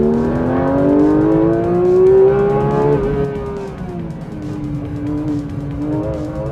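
Porsche 992 GT3 RS flat-six screaming on a hot lap with a factory race driver at the wheel, loud and close from inside, pitch climbing through gears, dropping, then rising again, with faint tire squeal.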